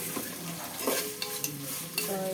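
Onions and other vegetables fry in a little oil in a pan for coconut rice, a close sizzle broken by several metallic scrapes and clinks of a spoon stirring.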